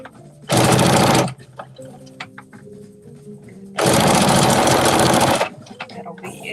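A sewing machine stitches the bottom piece of a clutch bag to its lining in two loud close bursts, one short and one longer, with quieter handling sounds and brief talk between them.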